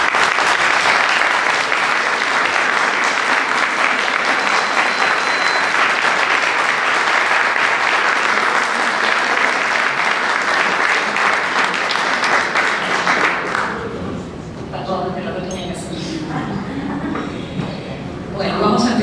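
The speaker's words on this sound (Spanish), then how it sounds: "pido un aplauso para la inspectora María José" Sustained, loud applause from an audience at a teaching documentary presentation, honouring the inspector María José, dense clapping that runs for about thirteen seconds before thinning out into scattered claps and murmuring voices.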